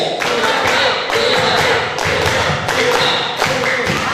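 A group claps together in a steady rhythm, sharp sharp hand strikes repeating about once a second, loud and close with a roomy echo.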